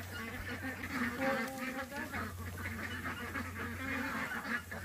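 A flock of fat farm ducks quacking and honking excitedly in loud overlapping calls close by, with faint voices in the background.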